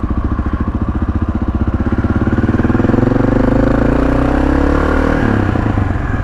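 Honda XR650L motorcycle engine, just back running after a carburetor fix, chugs with a steady thumping pulse that rises as the throttle is opened, loud and close, with no talking.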